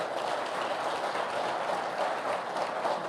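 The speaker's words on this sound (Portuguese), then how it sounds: "Levante suas mãos e aplaude a Jesus nesta noite." A church congregation applauding during an evening celebration service, a steady dense wash of many hands clapping at once, sustained evenly from start to finish with no pauses.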